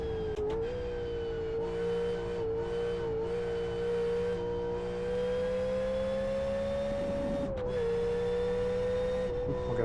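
An Aussie V8 supercar in the Live for Speed S3 racing game, engine droning at a steady high pitch with brief dips and rises as it shifts, loud and continuous with no talk.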